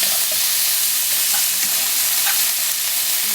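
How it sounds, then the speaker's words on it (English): Tomatoes cooking down in a pan for an aubergine and pea curry give a loud, continuous close sizzle and hiss with a few faint stirring taps and no talking. "I'm going to let these tomatoes cook right down"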